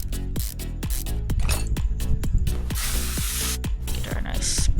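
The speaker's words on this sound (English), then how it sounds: "Get our nice spray going over here." A spray gun in Car Mechanic Simulator hisses in repeated short bursts while painting a restored car, each blast separated by sharp clicks of the mechanism, fairly loud and close.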